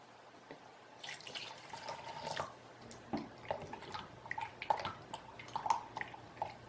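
Water trickles and drips into a container in short, uneven splashes, close by, with no one talking, while making chicken and dumplings.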